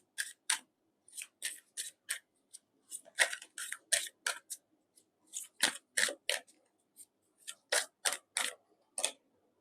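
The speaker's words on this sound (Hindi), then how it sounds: "एक कार्ड मैं यहाँ से लेना चाहूँगी।" Tarot cards are shuffled and drawn from a deck, a quick irregular series of crisp, dry snaps and flicks, close and fairly quiet, separated by short silences.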